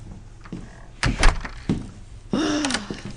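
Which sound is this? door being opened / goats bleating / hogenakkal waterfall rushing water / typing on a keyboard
door being opened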